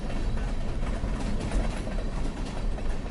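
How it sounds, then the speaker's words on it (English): Ghost train rolling past in the video game Stardew Valley, a steady, dense rumble with a faint clatter running unbroken throughout, fairly loud and without voices. "You can see the puffs from the train going by."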